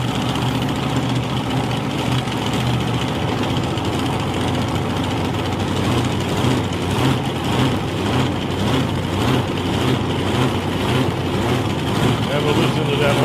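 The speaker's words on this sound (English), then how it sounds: "Listen to that. I love the sound of that car." A drag racing car idles at South Coast Raceway, a steady rumbling engine drone that holds loud and even throughout, with a faint pulsing rhythm and a commentator talking over it.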